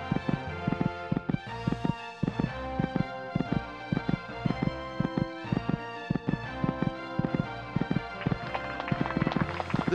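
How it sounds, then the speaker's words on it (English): Horse hooves canter along a cross-country course in a PlayStation equestrian game, a steady, quick three-beat clip-clop repeating for ten seconds at moderate volume. "This horse just cantering along this part of the course."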